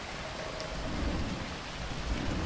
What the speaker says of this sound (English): Aw, more ground lightning!